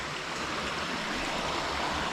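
Rainwater runs down a hill on a homestead after a short, damaging storm, a steady, close rushing wash of flowing water that keeps up without a break, with no one talking.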